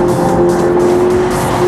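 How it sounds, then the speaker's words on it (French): A Peugeot front-wheel-drive coupé engine held at a steady, loud drone from inside or near the car, a constant throbbing note with a strong buzzing hum and no break across the short stretch. "On sent que les ingénieurs Peugeot ont travaillé le bruit de leur moteur"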